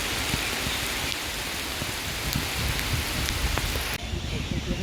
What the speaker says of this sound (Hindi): काफ़ी ज़्यादा बारिश हो रही है, इसकी वजह से दूर तक का हमें दिखाई भी नहीं दे रहा है।